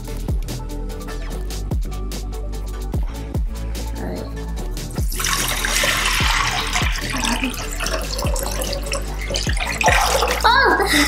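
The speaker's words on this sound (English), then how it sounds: "we're gonna put water inside of the glass bowl." Water pouring into a glass bowl for a dry paper towel experiment, rising into a bright splashing stream midway over a steady background of repeated ticking clicks and low hum, with a brief voice near the end.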